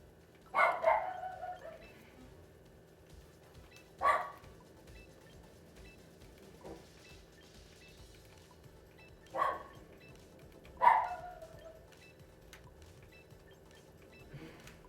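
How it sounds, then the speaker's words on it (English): A pit bull boxer mix barks in four separate bursts a few seconds apart, moderately loud and slightly distant, with quiet room tone between them. "Henry's dog is a pit bull boxer"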